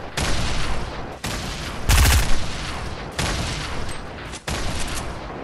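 Loud bursts of automatic gunfire in the game Fortnite, fired in several long, dense volleys separated by short breaks, with a heavy booming burst near the middle and no talking.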